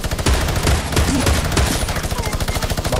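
Video game minigun fire rips through as a continuous, very fast, loud rattle of shots, close and steady for the whole stretch, with faint voices underneath.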